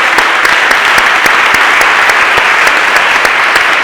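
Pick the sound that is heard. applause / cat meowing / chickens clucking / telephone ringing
applause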